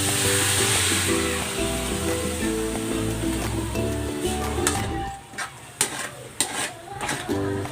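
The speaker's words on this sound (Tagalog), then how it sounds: "ibuhos na natin dito yung ating ginawang sauce." Homemade sauce poured into a sizzling restaurant-style shrimp and vegetable stir-fry, a loud hiss that fades into softer crackling, with scattered metallic scrapes and taps of a utensil against the pan.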